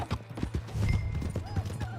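Horse hooves clip-clop in Red Dead Redemption 2, a steady rhythmic trot of close, moderately loud hoofbeats with a brief whinny and faint game voices in the background.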